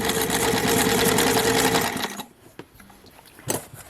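A sewing machine stitches a foldable grocery bag, a loud steady mechanical whir for about two seconds that stops abruptly, followed by a few faint clicks and a soft thump as the fabric is turned at a corner.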